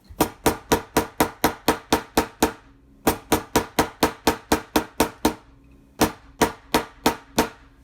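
Steady, rhythmic hammer blows drive frets into the neck of a Takamine EG341-SC G Series acoustic-electric guitar during a partial re-fret, sharp close taps in three quick runs separated by short pauses, with no talking.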